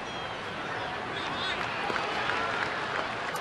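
Large crowd at a baseball game cheering and clapping, a dense roar that swells slightly toward the end, heard at a distance under a broadcast announcer's voice.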